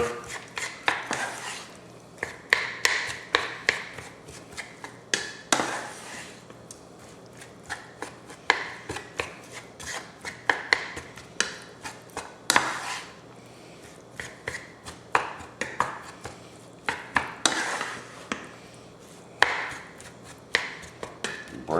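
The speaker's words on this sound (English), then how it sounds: "I'm going to give this a stir." Spoon stirring stuffed pepper filling of cooked rice and corn in a bowl, breaking up the rice, with repeated scraping clinks and knocks in an uneven rhythm, close and fairly loud, no voices.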